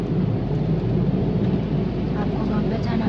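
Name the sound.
rain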